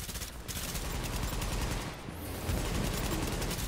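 Rapid gunfire in The Division video game aimed at an enemy's tanks, a dense, continuous burst of automatic shots, loud and close, with a brief dip midway.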